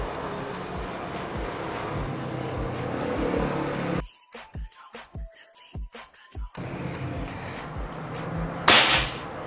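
PCP air rifle with a threaded barrel fires a single sharp, loud crack near the end, set against earlier outdoor rumble and a choppy, gusty stretch, with no talking.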